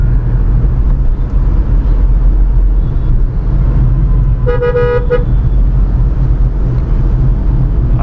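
Dense road traffic between Thane and Andheri heard from inside a Tata Punch, a steady engine and road rumble with one distinct car horn honk about halfway through and fainter horns around it.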